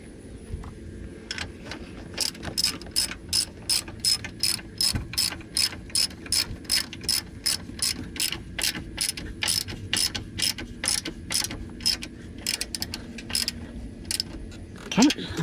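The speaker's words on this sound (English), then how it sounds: "And bolt her down." Ratchet tightening control arm bolts on a Hummer H3 during an upper control arm replacement, a long run of rapid, evenly spaced clicking strokes, close and crisp, with a few short pauses.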